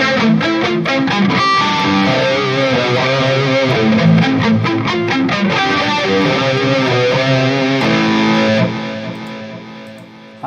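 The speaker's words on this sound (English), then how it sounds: "The flanger and harmonist." Electric guitar played through a NUX MG-30 multi-effects unit with flanger and harmonist engaged, giving sweeping, layered harmonized chords and notes that ring loud and steady before a sustained final chord fades.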